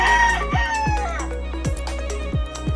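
A Stuart Yellow-Legged Hatch gamefowl rooster crows loudly and close by in a drawn-out call, over repeated low thumps in the pen.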